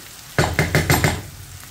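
Fried bitter gourd tipped from a pan into a bowl: five quick scraping, clattering strokes of a utensil against metal with a brief sizzle, close and fairly loud, then quiet.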